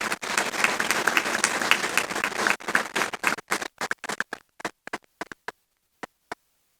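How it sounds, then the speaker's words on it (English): Audience applause at a doctoral convocation ceremony, a dense crowd clapping for about three seconds that thins into scattered individual claps and fades to silence. "Let's give an applause for just being part of this great community."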